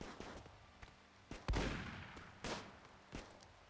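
Gunfire in the colony-survival game Rimworld: scattered sharp shots at irregular intervals, with a bigger blast partway through followed by a few more cracks over a low background.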